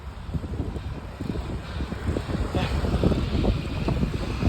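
Steady wind rumbling and buffeting against the microphone, a continuous low roar that swells slightly toward the end, with no voices.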